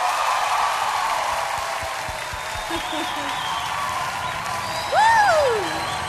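An audience claps steadily to welcome a singer onto the stage, a sustained, even wash of applause running throughout, with a bright rising whistle cutting through near the end.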